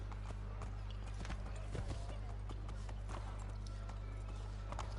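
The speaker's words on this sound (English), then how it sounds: "Let's ride your horse a bit faster" Horse hooves galloping in Assassin's Creed 3, a steady quick clip-clop of hoofbeats running continuously at moderate level over a constant low game hum.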